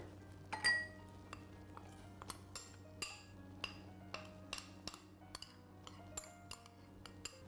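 Spoon scraping and clinking against a pot while a thickened milk sauce with tomato and cheese is stirred, a series of faint, irregular metallic taps and scrapes over quiet kitchen background.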